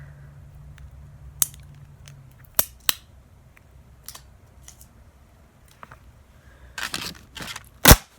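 Scissors snip through a taped paper drawing, sharp isolated cuts spaced irregularly in a quiet room, with a cluster of louder crisp snips near the end.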